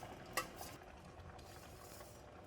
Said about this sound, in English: the fish soup is boiling vigorously